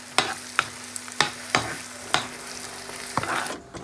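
Egg and sausage sizzle softly in a pan while a utensil clacks and scrapes against it several times, close by and with no talking.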